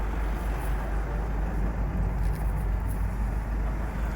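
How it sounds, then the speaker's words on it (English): Roadside traffic in Quepos, Costa Rica rumbles as a loud, steady low drone of passing vehicles, continuous and close with no talk. "it's next to a roadside and there's quite loud traffic"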